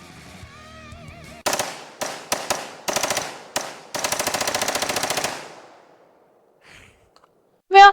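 Rapid bursts of automatic gunfire from the Borderlands movie, several short volleys then a long sustained burst, loud and close, followed by near silence and a brief final sharp sound.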